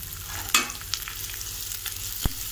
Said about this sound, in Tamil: வெங்காயத்தை நல்லா வதக்கி விட்டுக்கணும்.